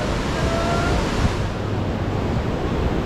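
Surf rolling in on the beach at Mazatlan, Mexico: a continuous, fairly loud rush of breaking waves and wind, heard close by with no talking.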